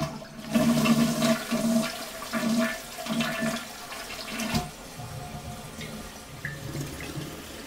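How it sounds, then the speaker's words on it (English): Half flush of a dual-flush toilet: a rushing gush of water that swells quickly, then settles into a quieter, steady trickle and refill hiss as the tank fills. The sound is close by, with no voices. "Okay, so here's the half flush."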